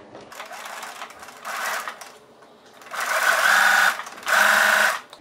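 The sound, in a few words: sewing machine stitching a parallel seam line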